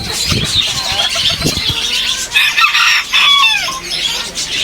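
Several bantam chickens cluck and crow nearby in Batticaloa, Sri Lanka, with overlapping calls and a drawn-out crow, against a busy outdoor background.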